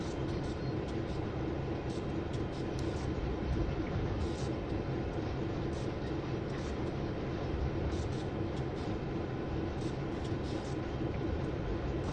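A train in the Train Sim World 2 game on the Oakville Subdivision route rolls across a set of points, giving a continuous rumbling, rattling wash of rail noise at a low, even level with no talking.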